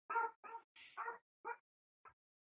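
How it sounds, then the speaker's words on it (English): A pet dog at home barks and yips in several short bursts, a quick cluster of three or four followed by two more spaced-out yaps, fairly close and with no talk over it. "I don't know if you can hear my dog."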